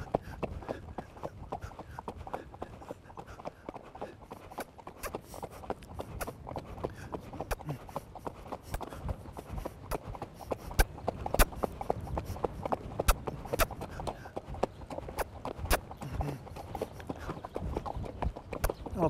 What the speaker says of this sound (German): Weiter ganz klarer, sauberer Trab.